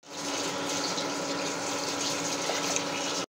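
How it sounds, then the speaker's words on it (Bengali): Tap water runs in a steady gush while fish is rinsed during cooking, with a continuous splashing flow throughout and no voices. "ধুয়ে নিলাম মাছের"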